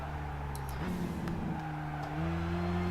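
A turbocharged race car in Gran Turismo 5 drives on a track and brakes late into a corner, its engine note shifting pitch under a steady droning hum at moderate volume.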